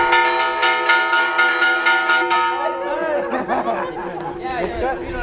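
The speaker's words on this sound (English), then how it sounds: "seems to get a kick out of the children ringing the church bells" Church bells rung by children at a Chamula market church clang in a steady series of bright, ringing strikes over the opening seconds, then fade under lively crowd chatter and voices of a busy Sunday market.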